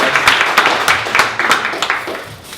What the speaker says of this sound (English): give a round of applause for ToolRent and Sherwood Avery